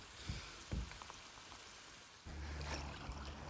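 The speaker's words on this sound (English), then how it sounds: "It's been raining all night, raining all morning, and it's due to rain for the next week." Rain falls steadily in Fiordland, a soft continuous patter with a few louder knocks and splashes close by, and a low rumble coming in partway through.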